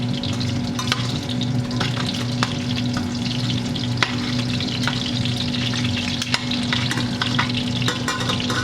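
Food with a habanero pepper in it frying in a pan, a steady loud sizzle running throughout, with scattered scraping clicks from stirring and a faint low hum underneath.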